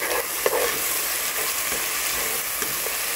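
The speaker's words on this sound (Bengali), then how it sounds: "সেই অনুসারে আমি টমেটো চপ ঢেলে নিলাম।" Chopped canned tomatoes frying with onions in a pan for paneer tawa masala, giving a continuous dense sizzle with a few scraping stirs, close and fairly loud, with no talk.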